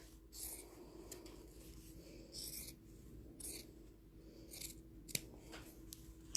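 Scissors cutting fabric for hand piecing a quilt, with several crisp snips in short bursts, close and clear in a quiet room.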